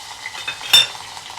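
Green chillies sauté in hot oil with popped mustard seeds, cumin and curry leaves for Surti vatidal khaman, giving a brief, quiet sizzle and a single stirring scrape against the pan.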